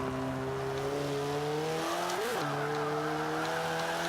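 Race car engine in Forza 5 holds steady harmonic tones, then briefly dips and rises as a gear shifts into fifth, with sustained drone continuing close and loud throughout.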